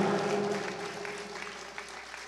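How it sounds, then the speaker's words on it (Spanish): A church congregation applauds at a Spanish-language service, a steady dense wash of clapping that holds for the whole stretch and eases slightly toward the end, with a faint low tonal hum beneath. "dele un aplauso fuerte a Cristo"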